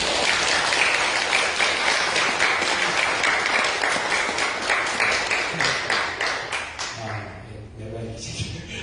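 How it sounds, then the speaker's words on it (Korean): A church congregation claps loudly in a sustained round of applause, dense and steady for several seconds before thinning out, followed by a voice starting to speak as the clapping fades. "크게 박수 한번 쳐주시기 바랍니다."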